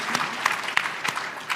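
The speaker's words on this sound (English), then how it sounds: "Yes, we can clap for that." Brief, light clapping from a small audience at a Capitol Hill rare disease event, a few distinct claps close by with quiet room sound beneath.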